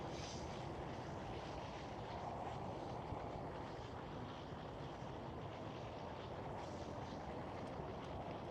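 A KLM Boeing 787-10 airliner passing at Amsterdam Schiphol, its engines a steady, broad roar that holds at fairly even strength throughout, with no voices.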